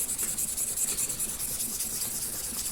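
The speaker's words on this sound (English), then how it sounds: "So working with the 1000 grit, and you can see getting a little more of that shine." Fine 1000 grit sandpaper rubs steadily against a metal gun magazine being polished, a soft continuous scratchy hiss with quick back-and-forth strokes, close and fairly quiet.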